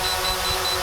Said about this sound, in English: Hear it beeping.